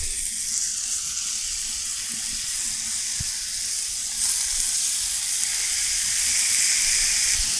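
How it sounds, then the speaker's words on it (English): A steak searing in a hot oiled pan at around 400 degrees, giving a continuous bright, hissing sizzle, close and steady throughout with no talking. "we have a very nice hot 400-ish degrees up here. We'll throw our steak down."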